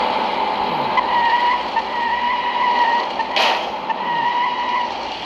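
Police car drifting in the video game City Smash, with a continuous loud engine drone and screeching, skidding tires throughout, plus a brief sharper tire squeal partway through.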